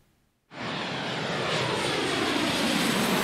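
A fixed-wing aircraft at Trang airport roars in abruptly after a moment of near silence, holding a loud, broad, steady engine rumble close by for the rest of the moment.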